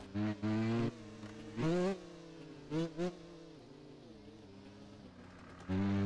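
Motorcycle engine revving hard in short repeated bursts during wheelie attempts, rising and dropping in pitch, with a steady idle drone between the throttle blips, close and alone without talk.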